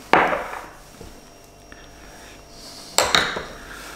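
Sourdough starter being scraped out of a container in a home kitchen, with two sharp clattering knocks of utensil against container about three seconds apart and a light tap between, close and clear.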